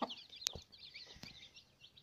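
A hen clucks softly among her chicks, with a few sharp peeps and short calls breaking through a faint, quiet background.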